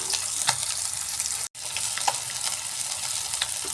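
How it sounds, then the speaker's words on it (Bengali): Rohu fish sizzles steadily in hot oil nearby, a constant crackling fry with occasional pops and a brief pause partway through. "এইভাবে নিচের দিকটা একটু কড়া করে ফ্রাই করে নিচ্ছি"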